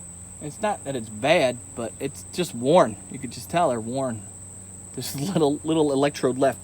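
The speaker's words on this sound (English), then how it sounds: "I had no idea how deafening the freaking crickets are" A loud, continuous high chirp of crickets rings steadily throughout, with someone talking over it nearby.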